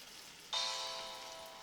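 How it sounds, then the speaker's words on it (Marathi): A medu vada, a lentil fritter with a hole in the middle, dropped into hot oil sets off a sudden bright sizzle that fades slowly over a second, close and alone. "असा होल करून हे वडे तळून घ्यायचे आहेत।"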